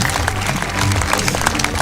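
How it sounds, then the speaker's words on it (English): Dense clapping from a crowd at a beach volleyball event ceremony, loud and sustained without a break through the clip, with no voices over it. "they deserve a big round of applause for all their efforts"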